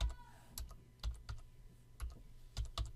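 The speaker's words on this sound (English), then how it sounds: "I could type." Keys clack on a computer keyboard as a name is typed into a spreadsheet, a handful of sharp, close taps in uneven bursts with short pauses between, standing alone without any talk.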